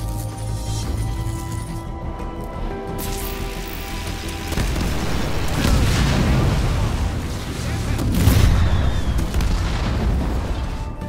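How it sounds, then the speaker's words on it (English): Enemy vehicle gunfire and explosions in the video game Halo Wars 2 form a dense, continuous wash of booming blasts and bursts that swell louder midway and again near the end, with faint talk underneath. "I'm under fire from enemy vehicles."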